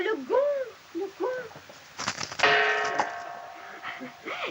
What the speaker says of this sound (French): Et moi, je suis le gong.